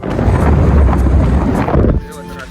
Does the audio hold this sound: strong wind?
yes